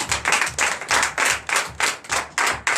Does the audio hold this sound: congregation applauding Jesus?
yes